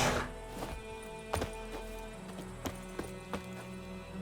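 Roach the horse in The Witcher 3 trotting with clear, near hoof clip-clops at an uneven pace, a whinny near the start and a faint ambient bed underneath.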